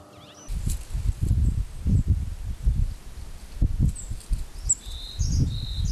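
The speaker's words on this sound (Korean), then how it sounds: "인가 근처에는 새들이 모여듭니다." Birds call near a barley-farming village in the high, arid Himalaya, with scattered chirps and tweets over repeated low rustling thumps, moderately near, with no talk.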